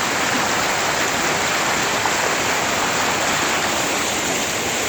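A river rushes steadily near Toketee Falls in Oregon, a loud, continuous broadband roar of flowing water recorded close to the current, with no voices.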